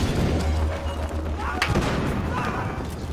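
Frag grenade blasts in the Battlefield Hardline shooter game: a deep booming thud with a low rumble early on, then a sharper burst near the middle, amid steady gunfire-like game noise and faint voice.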